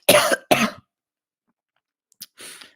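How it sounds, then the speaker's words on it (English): Two harsh coughs in quick succession, loud and close, from a commentator during live tennis commentary, then a pause and a smaller throat-clearing rasp trailing off at the end. "I'm really sorry about the coughing, by the way,"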